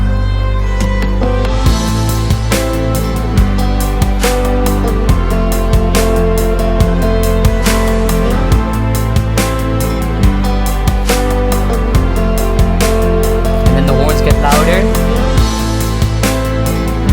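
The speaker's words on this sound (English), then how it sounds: "this drum loop just gives a hugely chill vibe to the entirety of the track." A chill drum loop of steady hi-hats, reverb-washed claps and stick clicks repeats in a firm groove inside a fuller electronic track, loud and upfront throughout.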